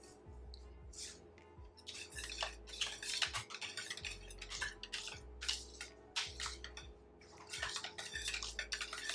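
A whisk beats runny cheesecake batter in a bowl with quick, steady, fairly soft metallic strokes and clinks that run continuously, close by and without talk.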